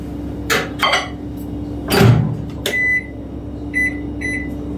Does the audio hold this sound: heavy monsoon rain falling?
no